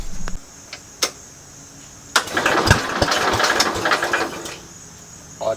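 A 1970s tractor engine with a permanently engaged clutch cranks in short bursts, then catches and chugs unevenly for a few seconds before faltering, close and fairly loud.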